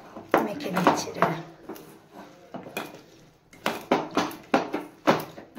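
Grated radish fritter batter being mixed by hand in a metal bowl, with repeated clinks and scraping knocks in uneven bursts, close up, while someone talks between the strokes.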